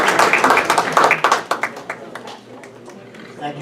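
Audience applause at a live comedy-style show in Delaware, a burst of clapping that rises quickly, stays dense for about a second and a half, then thins into scattered claps and fades near the end.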